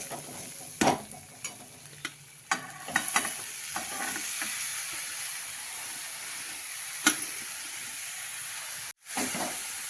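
Dill leaves (shepu) are added to a hot spiced oil tempering for a Maharashtrian stir-fry, producing a steady sizzle with intermittent stirring clacks and scrapes, moderately quiet and without talk.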